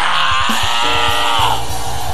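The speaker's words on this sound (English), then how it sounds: "Can you scream that name and let Satan" A church congregation screams a name together in a loud, sustained, massed shout of many voices that fills the whole brief moment.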